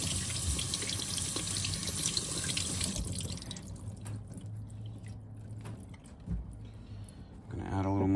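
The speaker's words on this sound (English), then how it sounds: "I'm just gonna rinse this off now that I have hair all over it." Running water from a tap splashes over a coticule whetstone as it is rinsed after honing a Filarmonica 14 straight razor, a steady close hiss that fades partway through, followed by faint handling sounds.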